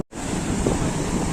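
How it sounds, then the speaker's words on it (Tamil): Sea waves breaking on the shore at Dhanushkodi, with a continuous rushing surf roar mixed with wind buffeting the microphone, loud and close, no talking. "அப்படி நீங்கள் பார்த்தீங்களா எவ்வளோ அலை இருக்குது"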